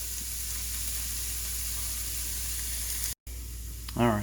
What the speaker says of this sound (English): Alright, I got the onions going.